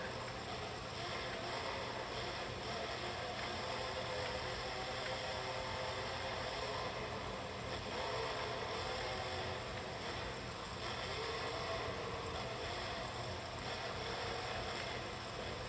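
Steady broadband engine roar of a monster truck in the BeamNG driving game during a Monster Jam stadium freestyle run, continuous and fairly loud with a wash of noise and no talk.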